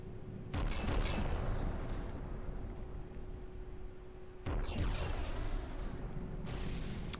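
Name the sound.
25cm gun shell explosions in video game From The Depths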